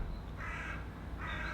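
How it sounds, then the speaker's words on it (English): Crows cawing outdoors, two drawn-out harsh calls rising over a steady background hum, fairly clear and close, with no talking. "God, it's crows crowing everywhere."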